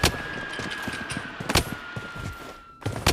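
Rapid bursts of automatic gunfire ring out in a battle-royale style shooter, sharp loud volleys crackling in a quick cluster, over a steady tone and game ambience.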